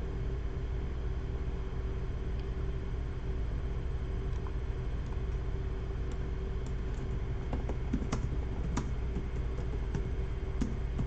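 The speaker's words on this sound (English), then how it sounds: "someone asked me to put the keys that I'm pressing, make them show up on the screen" Keys on a computer keyboard click in scattered, sparse taps during a Blender modeling session, soft and close over a faint steady hum, growing a little busier toward the end.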